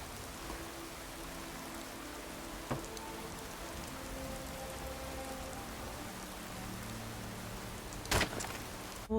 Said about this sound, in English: Despite the rainy weather, I began this day the same that I begin most days